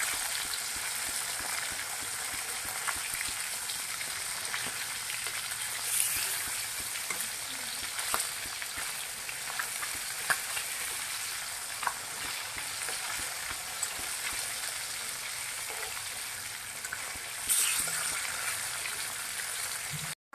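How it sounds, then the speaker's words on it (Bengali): Katla fish pieces fry in oil in a kadai with a constant close hiss and crackle, turned now and then, and the sizzle continues without pause for about twenty seconds. "এপিট উপিট করে লাল করে ভেজে নিব।"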